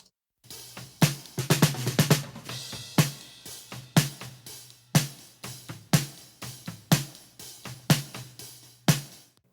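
Snare drum heard through top and bottom microphones blended, a steady pattern of crisp, punchy hits with short ringing tails and occasional quick flams, close and fairly loud, with no voices.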